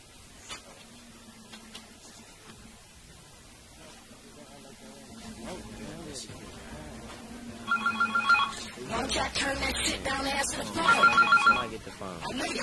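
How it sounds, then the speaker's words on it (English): A telephone bell rings in bursts of trilling tones, loudest toward the end of the stretch, over a busy background with voices talking throughout. "Somebody get the phone. I need the damn phone"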